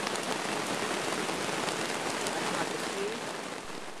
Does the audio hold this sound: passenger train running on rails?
no